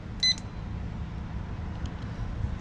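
A digital deadbolt keypad gives one short, bright electronic beep when its lock button is pressed, then only a low background hum remains.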